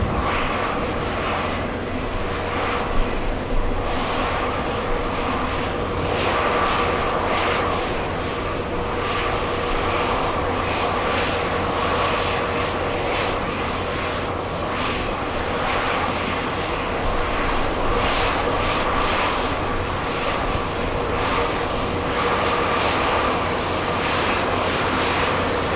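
A Virgin airliner taxis at the airport, its engines giving a steady, droning whine with a constant tonal hum, distant but continuous and without talk.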